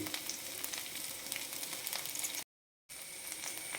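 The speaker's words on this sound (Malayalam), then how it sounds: "പിന്നെ കറിവേപ്പിലയും എന്നിട്ട് നന്നായി വഴറ്റിയെടുക്കുക" Curry leaves, dried chili and spices sautéing in a pan for a Kerala-style fish curry, a steady close sizzle with faint crackles, broken by a short gap of silence before the frying resumes.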